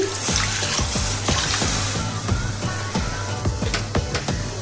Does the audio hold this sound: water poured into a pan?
yes